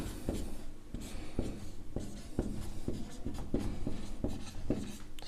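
Pen writing on paper while working a Class 10 maths coordinate geometry problem, close and fairly quiet, a steady run of short scratchy strokes in an uneven rhythm, with no speech over it.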